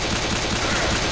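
Rapid gunfire from the zombie shooter game Left 4 Dead 2, a dense continuous burst of automatic shots filling the whole moment, loud and close with no pause between rounds.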